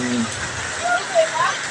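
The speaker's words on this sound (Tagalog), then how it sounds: "Rain na naman. Ulan-ulan na naman." Steady hiss of rain fills the background while people talk over it.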